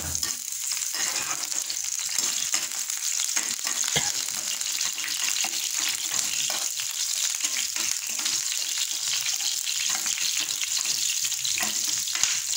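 Garlic sizzles steadily in a hot pan, a continuous bright crackle with occasional stirring scrapes, close and unbroken for the whole stretch with no talking.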